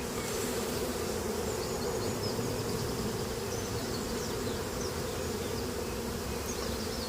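Honey bees buzzing around an open beehive during spring cleaning, a dense, continuous close-up drone of many wings that holds steady and loud throughout.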